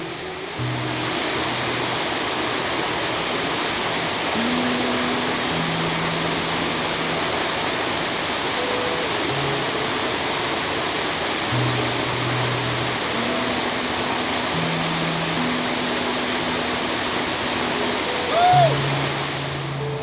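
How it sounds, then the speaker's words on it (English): The lower falls of the Little Mashel River on a forest hiking trail roar in a steady, broadband rush of falling water, continuous and fairly loud throughout, with no talk over it. "And here we are, the lower falls of the Little Mashel River."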